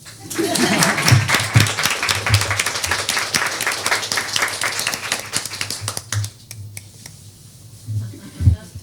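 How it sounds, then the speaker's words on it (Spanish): Audience clapping after a talk at an art event, dense applause for about six seconds that thins into scattered claps and taps toward the end. "Aplausos."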